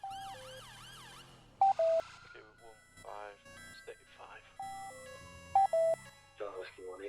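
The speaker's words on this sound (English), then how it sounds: "they'll have realistic ambulance sirens" Several synthetic ambulance siren wails and yelps from the game GTA V (FiveM) sweep up and down in bursts, switching between patterns with short gaps and sharp electronic tones.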